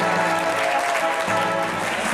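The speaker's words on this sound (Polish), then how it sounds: "Brawa dla zwycięskiej drużyny." Applause for the winning team at a golf tournament, a steady wash of clapping from a crowd that holds evenly throughout.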